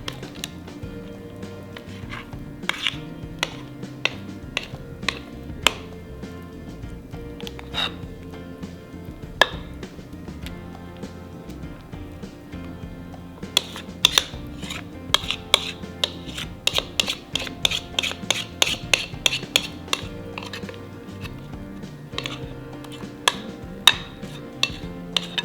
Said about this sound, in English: I am just gonna start slowly spooning this batter into our pan